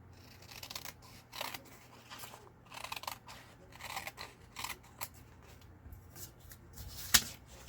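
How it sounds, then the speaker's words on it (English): Scissors trim the edge of a paper journal card made from cardstock and book pages, a series of crisp close snips and crunches with a sharp click near the end. "we're going to trim that off"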